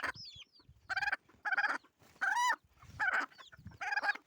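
A broody hen in a small chicken farm gives a string of harsh, rhythmic clucks, about seven separate close calls with short gaps between them and no other sound.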